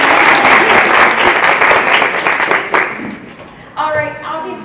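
An audience at a children's literature talk breaks into a burst of applause that holds steady, then thins and fades out, with a voice starting to speak as the clapping ends.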